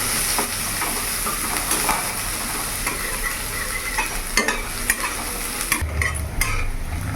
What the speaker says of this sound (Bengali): ভালো করে নাড়াচাড়া করে নেব, কিছুক্ষণ ভেজে নেব যাতে কাঁচা গন্ধটা পেঁয়াজে চলে যায়